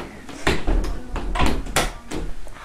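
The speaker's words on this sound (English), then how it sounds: "now I have to close the door so nobody gets mad at me for burping." A door is pulled shut indoors, giving several close knocks and thuds in quick succession, with a louder bump near the middle and a light tap at the end.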